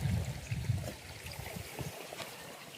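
Water runs through a supply channel, a steady close trickle and gurgle with low rumbling swirls early on that thin out toward the end.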